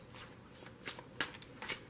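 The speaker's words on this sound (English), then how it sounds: "I have pre-shuffled this deck, so I'm only going to shuffle it for a moment." A tarot card deck is shuffled briefly during a weekly reading, a few quick soft riffles and flicks of cards, close and quiet against a faint background hum.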